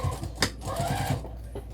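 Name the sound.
sewing machine back stitching a vinyl zipper tote bag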